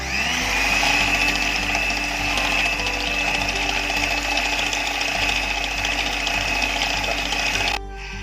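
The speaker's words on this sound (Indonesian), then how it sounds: "Margarin atau mentega, dan kemudian kita kocok adonannya" Mango pancake batter made with milk and margarine is whisked steadily for several seconds. A continuous mechanical whirring with a thin whine suggests an electric mixer, and it cuts out near the end.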